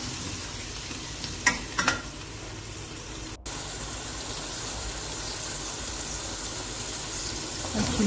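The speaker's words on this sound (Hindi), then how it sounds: "गोश्त जो है थोड़ी देर ये ऑयल में भून लें।" Mutton pieces fry in oil for a karahi, a loud, steady sizzle with a few clatters early on and a brief dip partway through.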